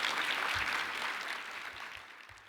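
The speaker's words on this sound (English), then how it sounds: "Let's give her a round of applause." At a county legislative breakfast, an audience applauds with steady, dense clapping that fills the room and slowly tapers off.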